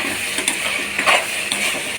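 A spoon stirs a mutton and brinjal curry in a pan with a soft, continuous scraping and gentle sizzling. The stirring strokes are faint and irregular, and no one speaks.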